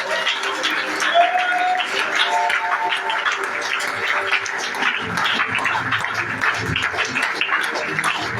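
A church congregation at a revival service in Bingerville claps and cheers to acclaim Jesus, with sustained applause and crowd voices filling the room alongside a loud speaking voice.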